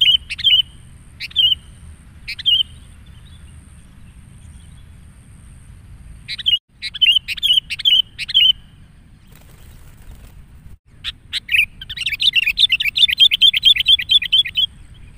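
A kutilang (sooty-headed bulbul) kept as a decoy bird gives short bright chirps in scattered bursts, then a longer run of rapid song, close and clear over a low hum.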